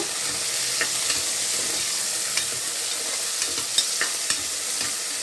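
Tomatoes sizzle and fry in a pan with onions for a Tamil-style mutton gravy while a spoon stirs them, making a steady dense hiss with occasional scraping clicks, close and continuous with no talking.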